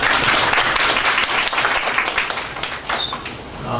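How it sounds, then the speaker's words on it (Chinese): An audience in a conference classroom applauds to welcome a speaker at a software engineering talk, a dense, loud wash of clapping that fills the room and slowly tapers toward the end. "请大家掌声欢迎。"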